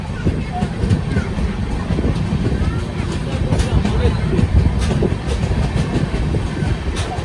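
The Chandigarh–Madurai SF Express rushes past a moving train in a steady, loud roar with rhythmic clattering of wheels over rail joints and wind buffeting, heard from on board.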